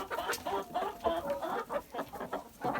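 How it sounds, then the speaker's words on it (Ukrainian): Several young Barbezieux chickens cluck nearby in quick, uneven bursts, soft chatter overlapping with an occasional sharper squawk. "молоді курочки барбаз'є"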